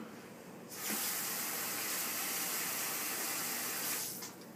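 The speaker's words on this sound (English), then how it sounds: "washing off spoons, not my favorite thing" Tap water runs steadily into a sink while spoons are rinsed off after making a homemade sauce, a broad, even gush that starts abruptly, holds for about three seconds and cuts off, close and moderately loud with no talking.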